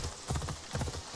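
Horse hooves clip-clop in a quick, steady rhythm, close and clear, in the video game Assassin's Creed Odyssey.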